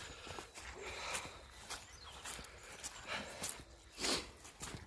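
A dog out on a walk through boggy, waterlogged countryside on a cold morning: scattered footsteps, sniffs and snorts with faint rustles, occasional louder bursts, fairly quiet overall.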